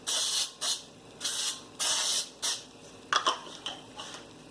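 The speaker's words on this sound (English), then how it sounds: "This is pan baking spray I like to use myself for this." Several short hissing bursts of pan baking spray, each about half a second, with brief pauses between them and a quicker cluster of softer puffs at the end.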